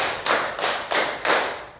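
A class of students claps together in a counting clap game, giving four or five sharp, evenly spaced claps in a steady rhythm, close and moderately loud, with no talking.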